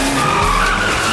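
A car drifting with its tires skidding, heard as a loud continuous squeal over engine noise for the whole short moment, with no talk.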